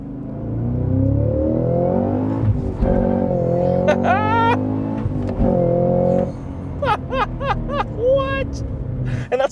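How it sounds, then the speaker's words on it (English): A 2023 Cadillac CT5-V Blackwing's 668 hp supercharged V8 rumbles and revs up loudly in cold winter conditions, with people talking over it and a few sharp whoops and exclamations near the end. "the manual, and the supercharged V8 noise"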